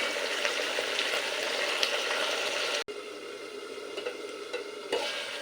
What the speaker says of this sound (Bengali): এই সমস্ত কিছু দিয়ে ভালো করে মিশিয়ে দু মিনিট হতে দেব